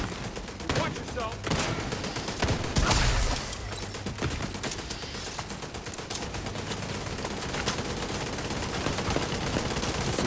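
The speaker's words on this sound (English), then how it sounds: "The dueling turrets! Who's gonna win?" Two turrets in The Division 2 trade rapid automatic fire in a dense, continuous stream of shots, with a heavier burst early on and game noise throughout.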